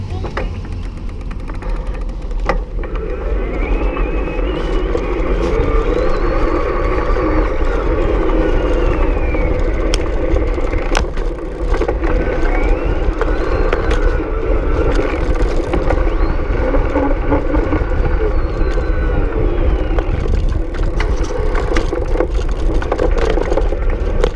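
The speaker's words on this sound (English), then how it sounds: "Listen for the rattling, the fender and all that." An EVELO Galaxy e-bike rides over a broken, ripped-up street, producing a continuous loud rumble with rattling from the fender and frame and no speech.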